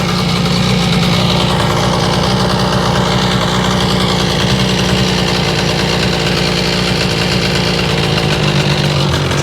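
Seadoo RFI 787 jet ski engine running loud and close with a rough, uneven idle, fading and sputtering toward the end as it dies.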